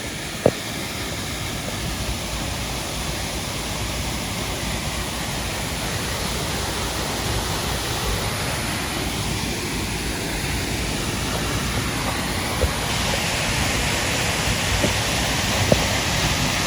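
Multnomah Falls in Oregon roars as a steady, dense wash of falling water, unbroken and constant throughout, with no voices over it.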